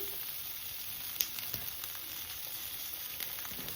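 Chopped garlic and ginger fry in oil in a pan, giving a soft, steady sizzle with a few faint pops and crackles throughout.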